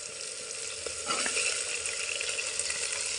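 Green peas dropped into a hot pan of oil for masale bhat set off steady frying sizzle, which swells louder after the peas land, with faint stirring scrapes underneath.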